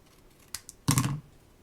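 Scissors trimming paper for a paper craft card: a couple of faint quick snips followed by one louder, sharper cut, close by and alone in a quiet room.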